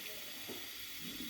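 A gas stove burner, relit beneath a pot of milk, gives off a soft, steady hiss that stays faint and even throughout the short moment.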